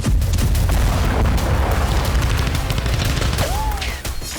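Bombing explosions boom in a dense, continuous barrage, heavy low rumbles rolling together with sharp cracks throughout, with a brief whistling streak near the end.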